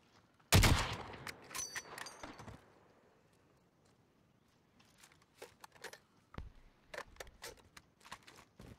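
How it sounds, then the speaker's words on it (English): Gunfire in the battle game Warzone: a loud burst of shots opens the scene, followed by scattered, fainter single shots and clatter spread across the rest of the moment, with no talking. "Fuck that fucking machine gun."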